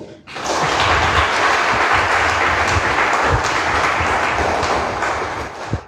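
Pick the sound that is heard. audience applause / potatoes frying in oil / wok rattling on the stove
audience applause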